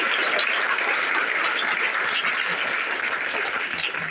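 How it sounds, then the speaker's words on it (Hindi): Students at a school event in Azamgarh clapping together, a steady, dense wash of applause held at an even level from start to finish with no pauses. "इनके लिए आप लोग तालियां बजाइए।"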